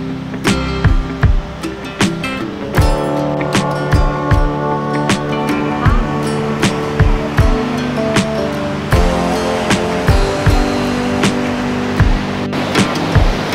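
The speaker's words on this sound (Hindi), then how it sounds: "समुद्र पहली बार मैंने देखा है।" Sea waves wash against the shore at Dwarka, Gujarat, a continuous loud surf with regular dull thumps and rattles mixed in and faint voices in the background.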